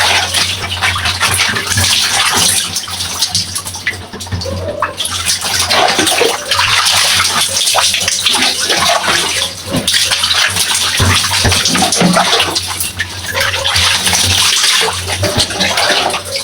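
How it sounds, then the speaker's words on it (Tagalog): Leftover bath water being splashed around in a tub, loud and close, a continuous churning wash of sloshing water with brief lulls, no talking. "magkampisaw lang tayo ng konti"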